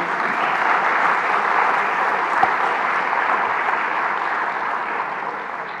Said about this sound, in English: Can we please join hands together once again and clap for UNESCO?